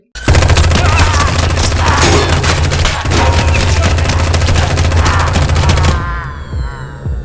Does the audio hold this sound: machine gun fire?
yes